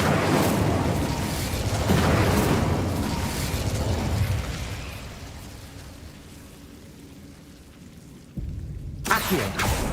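An Incendio fire spell cast in Hogwarts Legacy, a loud whooshing burst of flame that rolls and fades over several seconds, followed by a brief sharp magical flourish near the end.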